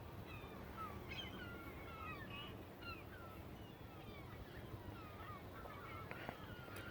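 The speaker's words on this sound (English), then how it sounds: "Yeah, some of them are landing, sitting down. They're landing now." A big flock of birds landing on a lake in New Jersey, scattered calls and chirps overlapping continuously over a steady low ambient rumble, moderately distant, without talking.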